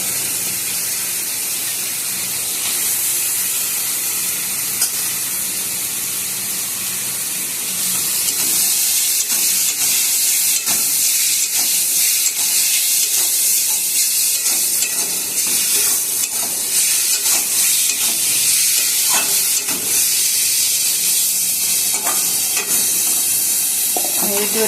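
Small chopped chicken pieces fry in a pan with pointed gourd, a loud continuous sizzle that surges and intensifies midway, with scraping stirs under the crackle.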